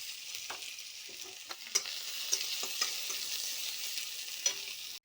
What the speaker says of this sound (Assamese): এবাৰ পিঁয়াজখিনি ভাজি ল'ম